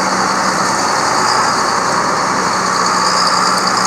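A 4960 tractor engine idles steadily up close at a hill-climb event, a loud continuous rumble with a constant drone and no gaps.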